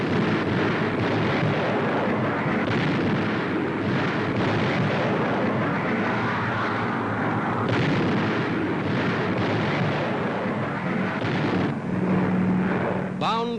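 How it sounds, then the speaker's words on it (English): 500-pound demolition bombs exploding on a Nazi airfield in Holland, a continuous roaring barrage of deep blasts and rumbling from old wartime newsreel sound. "500-pound demolition bombs landing directly on the target"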